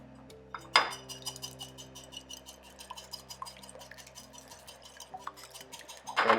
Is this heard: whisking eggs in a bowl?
yes